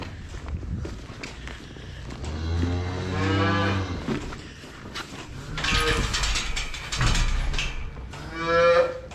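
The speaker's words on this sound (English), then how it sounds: "You can always tell when a cow is just sick and tired of you." Cattle on a snowy farm moo loudly several times in long, drawn-out low calls, close by, with shuffling hooves and movement between the moos.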